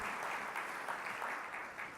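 Applause at a national conference for a group of leaders, a faint, steady wash of crowd clapping heard from a distance.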